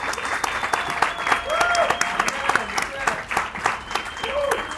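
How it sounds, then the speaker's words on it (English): An audience at a human rights festival claps for a poet, steady clapping with a voice talking over it and tonal sounds mixed in. "Can we give Ruben a clap?"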